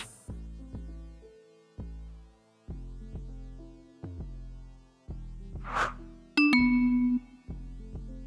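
The Classic Vibes bell preset plays in FL Studio as a steady run of clear, ringing mallet notes with soft decaying tails. A brief sweeping tone and one longer held note break in near the end.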